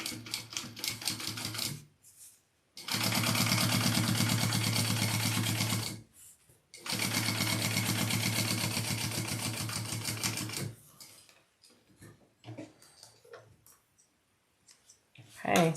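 Sewing machine stitching down two fabric layers for a crossbody bag, two long loud runs of rapid mechanical stitching separated by brief pauses, then quieter handling clicks.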